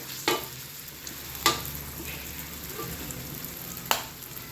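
Minced pork with basil and shrimp is stir-fried in a wok, producing a soft continuous sizzle punctuated by three sharp spatula clanks spaced a second or more apart, close and moderately quiet, with no talking.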